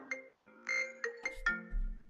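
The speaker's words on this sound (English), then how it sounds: "unfortunately, that's a phone call." A phone call rings through a computer as a melodic electronic ringtone with several tonal notes, loud and close, with a low rumble beneath the later notes.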